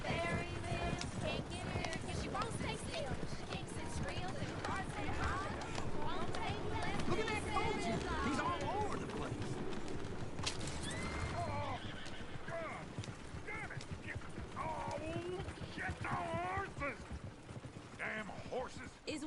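Horses whinny and neigh over a busy clip-clop of hooves in the video game Red Dead Redemption 2 on PS4, with voices talking throughout.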